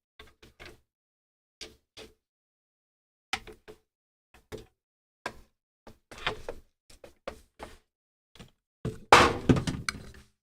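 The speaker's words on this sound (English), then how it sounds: "I think I knocked one of the relics off the back of my table." A relic knocked off the back of a table tumbles and crashes in a loud burst of clattering impacts, preceded by scattered sharp thunks and knocks in an otherwise quiet room.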